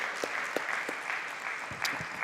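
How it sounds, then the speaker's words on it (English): An audience at a summit session in Amaravathi claps, a moderate spread of hand claps with a few sharper slaps standing out, fairly soft and without voices. "A big round of applause for Asia Initiatives."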